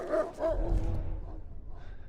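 Dogs bark in the video game The Last of Us: two quick, close barks ring out, followed by lower growling and whining that fades away.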